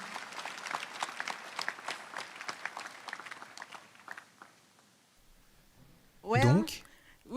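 Church congregation applauding for Jesus at a healing service, dense clapping fading out over about five seconds before a loud voice cuts in at the end.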